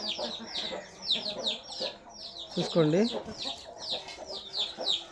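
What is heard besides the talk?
hens and rooster clucking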